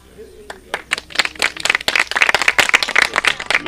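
Scattered hand claps build into a brief burst of clapping, close by, with voices mixed in.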